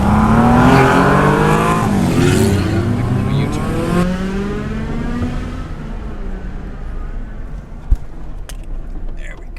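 1963 Porsche 356 B coupe engine heard while driving: a loud, rising and falling rev through gear changes that settles into a lower, quieter road drone, with a sharp click near the end.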